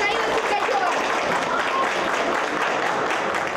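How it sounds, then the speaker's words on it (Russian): Loud, sustained applause from a school crowd welcoming a hockey player, dense clapping filling the whole stretch with no break. "Вот так, под громкие аплодисменты, Михаил Сергачев входит в свою родную 31-ю школу."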